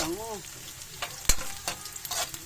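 Garlic and onion sautéing in a pan, a steady close sizzle broken by a few sharp spatula scrapes and clinks, with a brief voice-like tone at the start.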